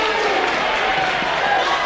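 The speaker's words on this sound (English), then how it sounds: "Gets a big woo from the New Hampton crowd." A crowd at a high school sectional wrestling match in Decorah lets out a steady, loud cheer and woo, a continuous wash of voices filling the gym.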